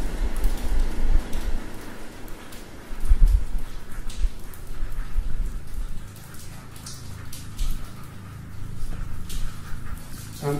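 Rain falling outside a building at night, a continuous close patter of drops with heavier splashes and occasional thumps, fairly loud and unbroken.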